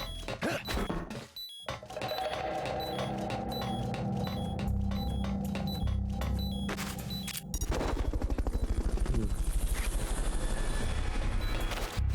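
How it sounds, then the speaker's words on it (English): Helicopter in the video game Metal Gear Solid: Peace Walker, a loud steady engine drone under dense game sound effects, with a short break before a stronger, rapidly pulsing rotor beat takes over. "Fulton recovery subject confirmed on board helicopter."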